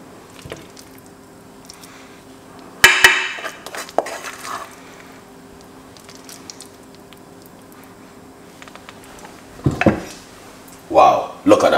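Cabbage stir-fries with vegetables and garlic in a pan, marked by scattered metallic clanks and scrapes of a utensil against cookware. Some bursts are louder and nearby, and a voice is faintly present in between.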